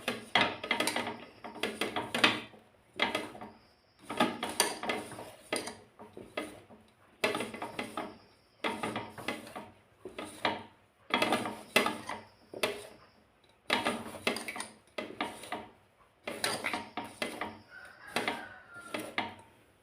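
A spoon mixes biscuit dough made from sathumavu with a pinch of salt in a metal bowl, producing repeated scraping and clinking strokes in a steady rhythm of bursts, close and fairly loud, with no talking.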